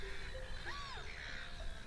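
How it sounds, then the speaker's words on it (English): Bird calls at Cheetham Wetlands, a former industrial saltworks, include a single crow-like caw that rises and falls, set against a steady wash of background noise. "while bird calls now penetrate the air"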